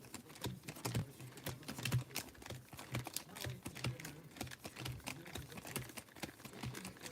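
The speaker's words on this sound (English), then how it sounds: "Let's go ahead and start shuffling." Pokemon trading cards get shuffled in quick, dense bursts of crisp flicking and riffling clicks, fairly close and steady throughout with no talking.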